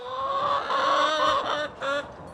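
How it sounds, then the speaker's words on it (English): Chickens cluck close by in a workshop yard, a short burst of several throaty calls in quick succession. "the chickens are inspecting our work."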